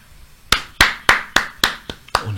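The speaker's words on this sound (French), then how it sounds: "On applaudit." Seven sharp, evenly spaced claps about a third of a second apart, loud and close with no talk, from someone applauding at a spiritual teaching session.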